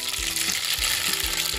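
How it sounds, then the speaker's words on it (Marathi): Mustard seeds crackle and sizzle steadily in hot oil as tempering for a spicy green chilli bhaji, with a few low scraping strokes under the dense, close frying noise. "आपण आता भाजीला फोडणी देणार आहे"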